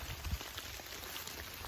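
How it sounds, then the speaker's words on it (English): Steady rain patters on surfaces in the mountains, a dense continuous hiss with scattered closer drops, heard alone at moderate volume. "It is raining, so put your earbuds in."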